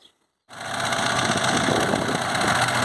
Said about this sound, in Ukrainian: Як працює даний культиватор на кукурузі, зараз подивимося.